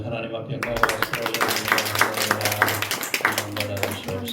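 Congregation clapping during a Korean Sunday morning church worship service, a steady patter of hands with a low sustained tone underneath and voices mixed in.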